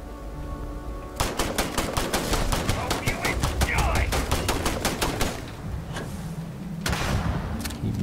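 Heavy gunfire from a big gun in the space game Starfield: a rapid run of loud, close shots that starts about a second in. A brief pause comes near the six-second mark, then more scattered shots follow.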